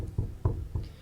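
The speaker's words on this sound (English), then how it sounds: "The door's locked. Try the handle, knock." Four knocks on a locked door in Disco Elysium, evenly spaced, close and fairly loud, with no voices.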